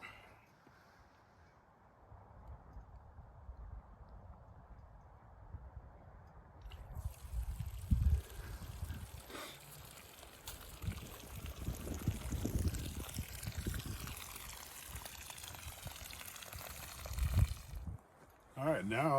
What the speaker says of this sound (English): we tipped over the ice bath to get all the water out.